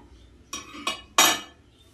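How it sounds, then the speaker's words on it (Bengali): A metal wok (kadai) set down on a stove in a home kitchen, giving two quick clanks followed by a louder, ringing metallic knock, close and clear with no talking. "কড়াই কিন্তু আমি বসিয়ে দিলাম"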